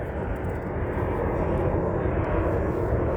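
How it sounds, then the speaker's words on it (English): Jet airplane passing overhead outdoors, a loud, steady broadband roar that fills the whole stretch without fading, with no voices over it. "I'm gonna wait for the jet to pass by."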